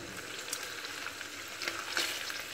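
Pork chops frying in oil in an uncovered pan, a steady dense sizzle with crackling pops throughout, close and loud, with no voices.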